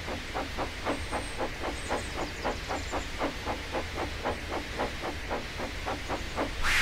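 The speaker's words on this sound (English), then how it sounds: "the whistle of Thomas the Tank Engine, who huffed angrily into the station, blowing steam everywhere." The Thomas the Tank Engine locomotive puffs out steam in rapid, even rhythmic chuffs of hiss, about three per second, steady and close, with a faint high squeal above and a louder burst of steam at the end.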